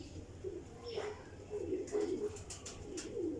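A pigeon coos softly a few times at close range, low murmuring calls in a quiet space with faint background noise.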